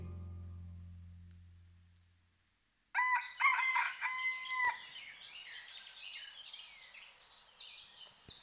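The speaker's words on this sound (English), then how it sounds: "We had so many chickens from our chicken farm that I thought it deserved its own dedicated area." Chickens on a chicken farm in the Minecraft video game give loud crowing, clucking calls. A fading low drone comes first, then the calls start abruptly and trail off into softer chatter.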